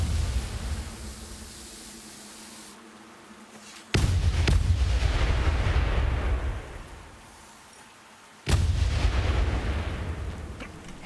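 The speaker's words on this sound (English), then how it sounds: "I'm gonna leave you with a totally pointless explosion for absolutely no reason" Explosions in the Vermintide 2 video game: heavy booming blasts, one near the start and two more a few seconds apart, each a loud burst fading into a long rumbling decay, with no speech.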